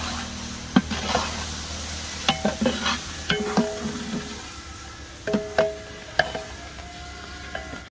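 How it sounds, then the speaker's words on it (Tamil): Five kilos of chicken for a spicy gravy, with ground masala of dried chilies, coriander, pepper and cumin, sizzle in a large pan under a steady fry, punctuated by repeated scraping stir strokes up close. "போட்டுக்கலாம் சிக்கன் பாஞ்சு கிலோ சிக்கன்"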